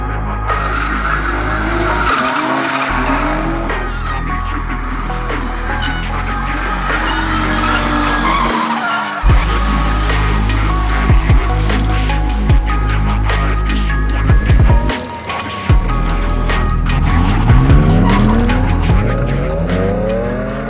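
Drift car at the Kačergė track skidding through a long run with repeated loud tire squeals and a roaring, revving engine, close and continuous with brief lulls.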